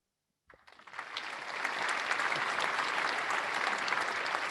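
Applause for a speaker at a blockchain logistics summit begins after a moment of silence, swelling quickly into a steady, dense clapping that continues evenly to the end without voices.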